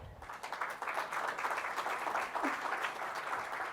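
A steady round of applause from an audience at a religious liberty law symposium in the Caribbean, a dense wash of many hands clapping that holds evenly throughout.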